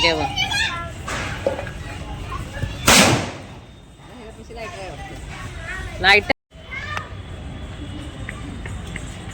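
Diwali firecrackers go off with two sharp, loud bangs amid children playing and chattering close by.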